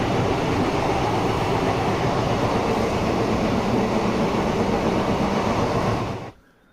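Steady, loud rumble and rattle of a train heard from inside a carriage, continuous for several seconds before cutting off abruptly near the end; no voices.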